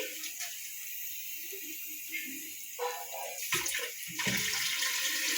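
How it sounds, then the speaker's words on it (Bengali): Water is poured into a cooking pot of chicken with mixed winter vegetables, a close splashing and trickling pour that rises and shifts in bursts over several seconds. "তো সেই পরিমাণ অনুযায়ী আমি এখানে জলটা অ্যাড করব।"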